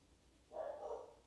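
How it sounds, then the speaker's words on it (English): Dogs bark upstairs in a home: one muffled, fairly faint bark-like burst heard through the ceiling, with no talking. "I got some dogs barking upstairs."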